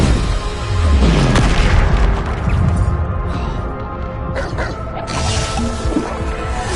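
Bombarda spell blasts in Hogwarts Legacy combat: a deep booming explosion with crashing debris, followed by further thuds and impacts amid swirling effects, loud and dense throughout.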